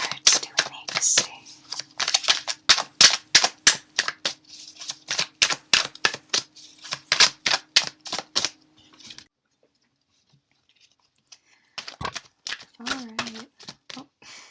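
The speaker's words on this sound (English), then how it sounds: "Cards always seem to want to fall out in stacks sometimes." Tarot cards shuffled by hand: rapid, crisp riffling bursts and slaps in a quick rhythmic run for about nine seconds, a pause, then a few more close card taps and a faint voice.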